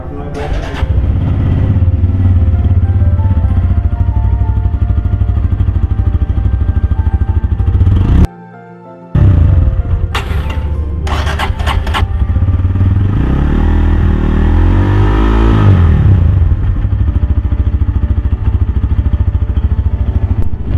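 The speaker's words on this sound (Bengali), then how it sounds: "এবার আমরা শুনে নেব এই এন ওয়ান সিক্সটি বাইকটার এক্সস্ট সাউন্ড" A Bajaj Pulsar N160 motorcycle with an underbelly exhaust idles loudly and revs at a showroom, engine rumble steady with a short cutout, then rising and falling throttle blips.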